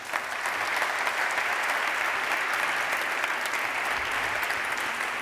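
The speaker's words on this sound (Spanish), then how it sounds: "Un aplauso, por favor." Steady audience applause at an anniversary conference event as a speaker is invited to the stage, a continuous even wash of many hands clapping, held at moderate level throughout.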